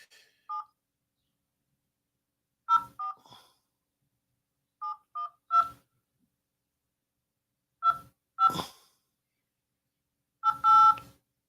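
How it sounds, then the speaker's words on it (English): Telephone keypad dialing tones while a phone call is placed: short clusters of two-tone beeps come in several bursts, near and clear against silence, with no talk. "so I'm calling Nipsey now."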